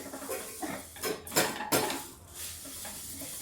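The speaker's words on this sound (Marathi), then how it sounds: "असं त्याला फिरवून फिरवून ह्याच्या आपल्याला लाह्या बनवायचे, भाजून घ्यायचंय आपल्याला" A utensil stirs millet grains roasting in a pan, making scraping, rattling and clinking sounds in uneven bursts with a soft sizzling hiss underneath.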